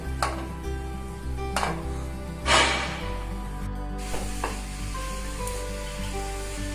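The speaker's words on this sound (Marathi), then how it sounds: "आपण आता हे किसलेले गाजर टाकून घेऊ" Grated carrot dropped into a hot pan for carrot halwa sizzles and hisses steadily, with a few scrapes and clinks of a spoon stirring against the pan, close and clear with no talk.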